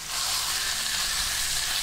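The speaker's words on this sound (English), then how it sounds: "in we go with our beef. You can hear that sizzle away." Ground beef for curry puff filling sizzles hard in a very hot pan, a steady, dense, close hiss of frying that runs unbroken throughout with no talking.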